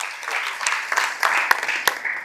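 A beginner dance class claps hands together in quick, uneven bursts, close by with a few sharper individual claps standing out over a soft murmur of voices.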